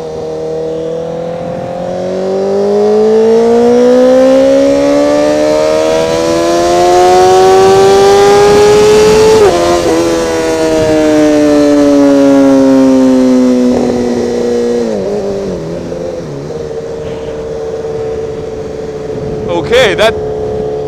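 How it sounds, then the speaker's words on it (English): A stock 2016 motorcycle revving hard in first gear toward top speed, engine pitch climbing steadily, dropping briefly, then rising again before fading, loud and close with heavy wind rush and a rider's voice at times. "How fast can a 2016 stock exhaust or stock bike go"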